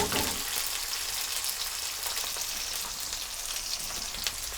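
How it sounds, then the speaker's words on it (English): Onion sautés in a kadai for mixed vegetable subzi, a loud, dense, continuous sizzle like steady rain that starts with a burst as it hits the hot oil and holds alone. "So we put this onion, okay, and get that sauteed."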